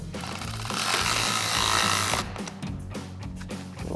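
A power driver with a T20 Torx bit whirs and ratchets as it tightens screws into a 2020-2026 Sierra 2500 fender lens, starting in a sustained buzzing run and then switching to short, chattering bursts, close and loud.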